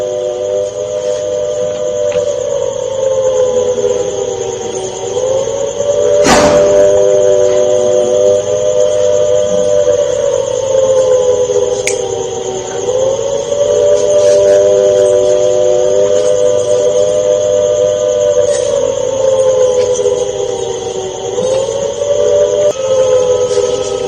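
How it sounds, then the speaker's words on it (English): A steady wailing siren sounds over Firozpur, Punjab, during a blackout alert, rising and falling slowly in long sustained cycles, with a few sharp clicks cutting through. "This time, sirens are ringing in Punjab's Firozpur as well."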